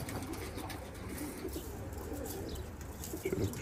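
Pigeons, mostly Van pigeons, coo softly in a loft, a low, faint murmur of cooing with a few chirps and some wing flutter near the end.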